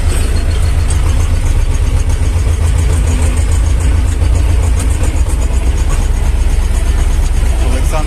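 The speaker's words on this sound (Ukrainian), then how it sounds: "а ми трактором їдемо" A low, steady T-25 tractor engine rumble runs throughout, loud and close, with mechanical clatter layered over it and no pauses.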